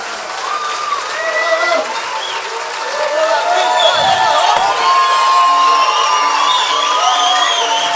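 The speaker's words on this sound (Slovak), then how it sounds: "Veľký potlesk." An audience applauds and cheers after a closing polka from Raslavice at a folk performance, with sustained loud clapping mixed with shouts and whoops, building slightly and staying full throughout.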